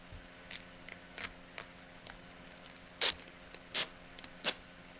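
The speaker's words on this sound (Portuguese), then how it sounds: "é um som de uma fita durex" Durex adhesive tape being pulled in short bursts, about nine quick ripping pulls of varying strength, the last three louder and sharper, over a quiet background.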